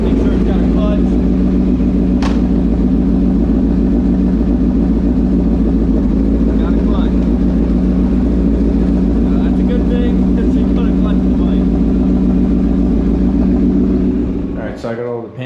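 A 1999 Yamaha R1 motorcycle engine, rebuilt with new spark plugs, gaskets, oil and clutch, idles loud and close while warming up, a steady deep rumble that cuts off near the end.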